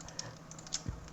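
Typing on a computer keyboard while designing an ID card in Photoshop: soft, close key clicks in an irregular quick run, faint and alone without talk.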